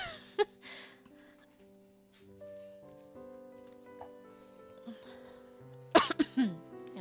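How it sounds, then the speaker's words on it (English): A quiet stretch with faint tones and soft noises, then a short burst of coughing close by near the end. "Cough."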